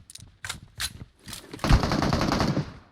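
Machine gun fire in the PUBG Mobile video game: several short, close bursts, then a loud, rapid, sustained stream of shots that runs to the end.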